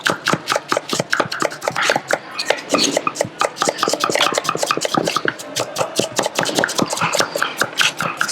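Onion being chopped with a knife on a board for a salad in a catering kitchen; rapid, crisp, evenly spaced knife strikes continue throughout, close and clear with no talking.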